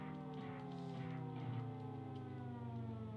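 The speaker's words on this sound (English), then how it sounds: "something sounds a little off with that siren sound" Siren effect from a Sega Genesis or Super Nintendo game, rendered through the console sound chip: a steady, slightly off-key synthesized tone with stacked harmonics, continuous and level for the whole stretch, with no talk.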